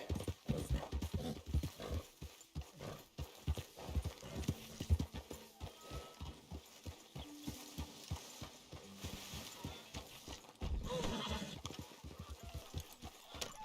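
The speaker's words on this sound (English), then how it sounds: "get that horse out of here" Horse hooves clip-clop in Red Dead Redemption 2, an uneven run of soft, close hoof thuds at a walking pace, fairly quiet, with occasional faint game sounds around them.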